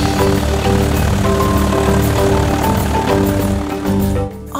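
A propeller-powered toy train engine named Hugo passes close by with a steady, loud droning buzz that holds for a few seconds and then drops away at the end, with no talk over it.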